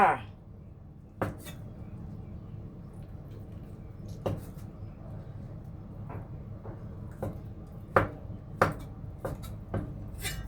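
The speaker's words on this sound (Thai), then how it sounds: "เห็ดหอม หั่นเป็นชิ้นละเอียดละเอียดเลยจ้า" A knife chops shiitake mushrooms finely for a dim sum filling, sharp irregular taps spaced a second or so apart over a low kitchen background, fairly close and moderately loud.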